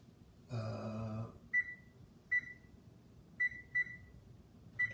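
Kitchen oven control panel set to 400 degrees, a longer tone followed by several short, clear electronic beeps spaced irregularly in a quiet room.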